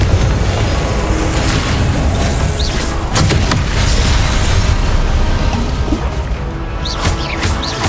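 Confringo explosive spell cast in Hogwarts Legacy during the Percival Rackham trial: loud, sustained booming blasts and crashes amid dense combat effects, with a few sharp bursts standing out throughout.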